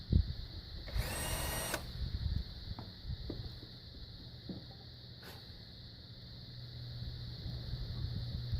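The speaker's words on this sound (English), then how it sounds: "All the recessed holes drilled into the wood" A power drill bores countersinks and pilot holes in a wooden board for a shed or chicken coop door. One short, close whirring burst gives way to a low steady hum with scattered light knocks.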